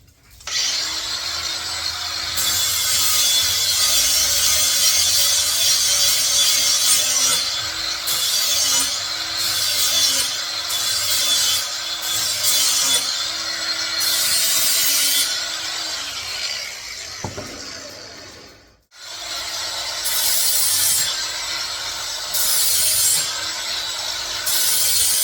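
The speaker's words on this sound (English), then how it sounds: "we're going to be using the grinder to sharpen these blades" A bench grinder sharpens Husqvarna 48-inch mower blades, giving a loud, continuous abrasive grinding whine with rhythmic surges as the blade is worked across the wheel, broken by one brief pause near the end.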